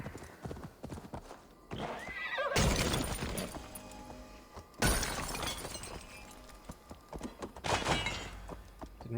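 A horse in Assassin's Creed Valhalla gallops with close, rapid clip-clopping hooves and lets out loud neighs, mixed with crashing, breaking game sounds.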